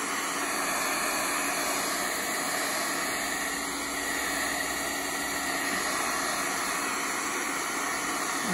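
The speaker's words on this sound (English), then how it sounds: "heat gun." A heat gun drying ink on a stencil blows with a constant loud, airy roar that stays steady throughout, no voices.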